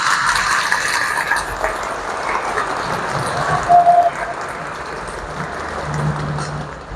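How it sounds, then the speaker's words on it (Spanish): Church audience applauding to welcome a guest at a confessional dedication, a broad, even wash of clapping that holds steady for several seconds. "Hoy les invito a que le demos un fuerte aplauso para darle la bienvenida."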